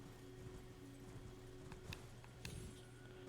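A horse's hooves clip-clop in Elden Ring as it trots along, giving faint, fairly regular hoof knocks over a steady low game hum, with a couple of sharper clacks near the end.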